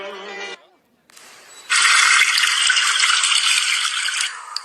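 A brief voice, a short pause, then a loud, steady rush of water gushing from a pipe that continues strongly until the end.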